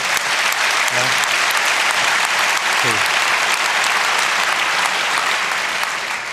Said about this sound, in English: I appreciate your pandering applause.